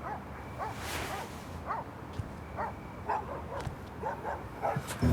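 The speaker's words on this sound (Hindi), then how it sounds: "ये कुत्ते क्यों इतना भौंक रहे हैं?" Several dogs bark repeatedly outdoors in a drama scene, a run of short sharp barks and yips at irregular intervals, moderately distant over a low background hum.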